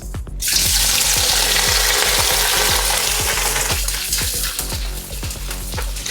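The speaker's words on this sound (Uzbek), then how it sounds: "Qizib turgan qozonimizga yog'imizni quyib olamiz. Qo'rg'alarimizni baland olovda qo'rib olamiz." Chopped vegetables fry loudly in hot oil in a cauldron over high flame for spicy mastava, a dense, steady sizzle with rhythmic scrapes and clinks of stirring throughout.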